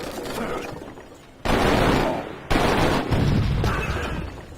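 Heavy booming blasts of cannon fire in the video game Civilization V, two big impacts rumbling out over a continuous roar of battle noise, loud and close.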